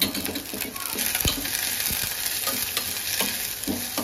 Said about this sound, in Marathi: कांदा थोडा परतला ना की लगेच वाटाणे टाकायचे